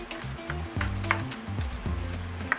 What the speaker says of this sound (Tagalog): ihaluin lang natin para malagyan ng sauce yung tokwa